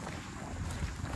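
Soft, steady wind rushes outdoors, brief and fairly faint, with no voices over it.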